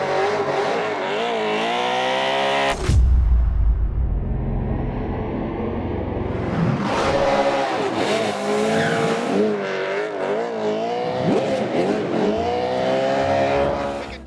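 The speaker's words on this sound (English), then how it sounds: "clips from Top Gear where he's zipping around the streets of London with Matt LeBlanc as a passenger" Ken Block's Hoonicorn RTR, a modified 1965 Ford Mustang, races through the streets of London with its engine revving loudly in rising and falling sweeps and a sharp burst of tire noise, close and continuous.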